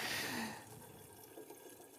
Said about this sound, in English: we pour in two flasks